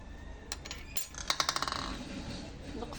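Glass jars of pickled peppers being closed, with a few sharp clinks followed by a rapid run of metallic rattles like a lid spinning down, close and clear in a quiet kitchen.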